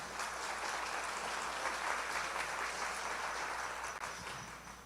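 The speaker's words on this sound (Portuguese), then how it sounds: "Muito bem, pode aplaudir, gente." A church congregation applauds during a sermon, producing a continuous, even roar of many hands clapping at a distance, sustained for several seconds.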